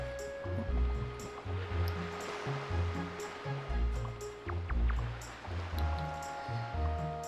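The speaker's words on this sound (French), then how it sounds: "au bord de la mer, bercé par le bruit des vagues" Gentle surf washing onto a beach in The Legend of Zelda: The Wind Waker, steady rolling swells rising and falling under layered game music with soft tonal notes.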